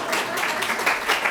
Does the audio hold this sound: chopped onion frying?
no